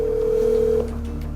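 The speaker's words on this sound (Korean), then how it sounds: "자초지종을 묻기 위해 박 씨에게 전화를 걸어보지만" A steady, loud telephone tone hums on a single pitch for almost a second while a call is placed, then cuts off, leaving a quieter line hiss with faint clicks.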